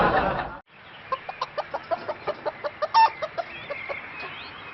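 A rooster lets out a steady string of about a dozen short, evenly spaced clucks, moderately loud and near, following a brief burst of speech.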